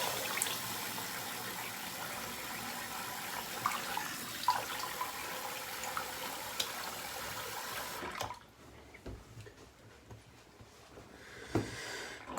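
Tap water running steadily into a bathroom sink while shaving lather is rinsed off, a continuous close splashing rush for about eight seconds before it stops, leaving faint drips and handling noises.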